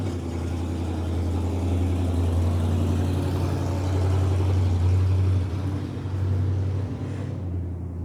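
A pickup truck engine runs near a rural home, a loud, steady low rumble that swells slightly in the middle before easing off, with no talking.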